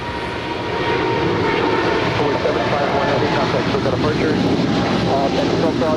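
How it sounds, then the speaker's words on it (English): A Southern Air DHL Boeing 777 freighter, ten years old, takes off at LAX with a loud, sustained roar of jet engines that stays steady throughout, heard from an open-air spotting location. "Southern Air DHL 751 off to Tokyo Narita. It's a 10-year-old 777 freighter."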